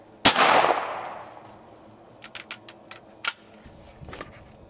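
A shotgun fires one Aguila 12 gauge minishell: a single loud, sharp blast that rings out and fades. A few quick metallic clicks from the action follow close by.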